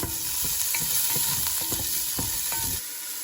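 Chicken pieces sizzle and spit steadily in hot oil in a pan, with repeated scraping stir strokes close by, no voices, before the sound cuts off near the end.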